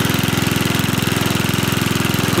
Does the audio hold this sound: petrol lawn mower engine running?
yes